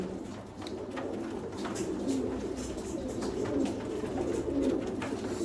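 Sialkoti pigeons with red markings coo in low, repeated throaty murmurs, close and steady over a faint background hiss, with no talk.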